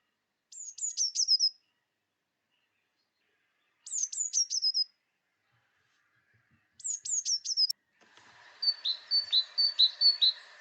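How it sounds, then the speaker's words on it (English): A blue tit sings three short, high-pitched trilled phrases separated by pauses, followed by a fourth, longer trill over faint background noise. "Blue tit song is high-pitched and often contains trills"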